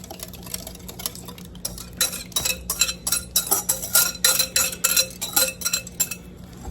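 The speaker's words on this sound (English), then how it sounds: "And get that all whisked in together." Whisk clinking and scraping against a bowl as liquid is mixed into dry ingredients for an apple cake batter, a quick rhythmic series of close metallic taps, busier in the second half.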